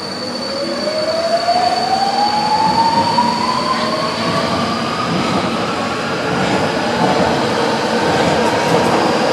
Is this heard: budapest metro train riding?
yes